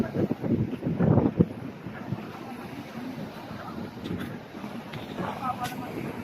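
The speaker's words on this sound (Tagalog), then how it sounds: "Medyo mahangin." Wind gusts across Puka Beach in Boracay, buffeting the microphone with low rumbling bursts, strongest early on, while faint voices murmur in the background.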